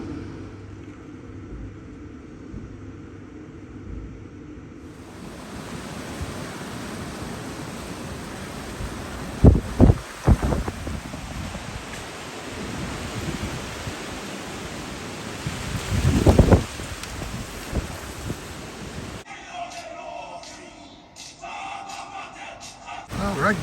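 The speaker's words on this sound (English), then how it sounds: "the rain continues to come down, the wind blowing" Steady rain and gusting wind at a boat haul-out yard make a continuous broadband wash, with a few louder bursts of gusts or spatter midway and a sharper, choppier patch near the end.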